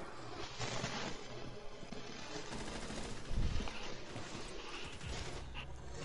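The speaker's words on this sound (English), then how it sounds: "why does Twitch keep shooting at him?" Gunfire crackles in Rainbow Six Siege, a dense, steady stream of rapid shots from a distance with one heavier thump midway, sustained and fairly quiet throughout.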